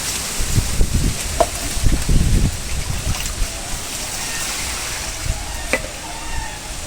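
Close, irregular sloshing and splashing as broken rice is washed by hand in water, with loud bursts in the first few seconds that settle into gentler swirls and occasional sharp clinks.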